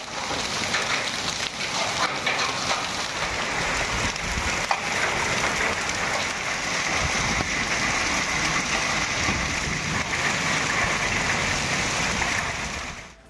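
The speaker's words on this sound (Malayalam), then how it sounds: "കടുത്ത ചൂടിന് ശമനമായി വെല്ലൂരിൽ ആലിപ്പഴ വർഷത്തോടെ ശക്തമായ മഴ പെയ്തു" Heavy rain with hail pours down in Vellore, a dense, steady hiss of downpour drumming on surfaces. It stays constant and loud from start to finish, and no voices are heard.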